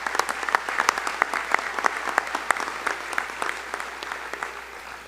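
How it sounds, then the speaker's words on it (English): Applause from the audience at a Hall of Fame enshrinement ceremony honoring inductees, a steady wash of many hands clapping at moderate distance, sustained throughout with no speech. "how about a round of applause for our inductees?"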